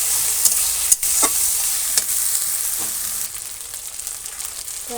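Onion, garlic, chili and spices frying in oil in a pot over a wood fire, a steady bright sizzle broken by a few scraping stirs of the spoon near the start.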